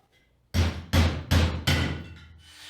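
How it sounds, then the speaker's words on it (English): Four sharp hammer blows in a steady rhythm punch out a wire knockout in an e-stop box, each strike close and loud with a short metallic ring fading before the next. "punch out the hole for the wires"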